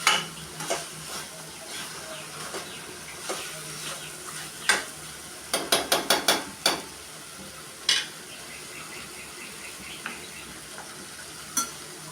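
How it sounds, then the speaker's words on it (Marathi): Eggplant sautéing in a pan, giving a steady sizzle broken by repeated sharp scrapes and taps of a spoon stirring against the metal, a quick cluster of clinks midway, no voices. "त्याला जरा परतून घेऊया वांग्याला."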